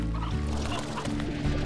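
Chickens clucking in the ranching video game Slime Rancher, a steady run of low, throaty fowl calls repeating in short bursts, fairly loud and close with no talking over them.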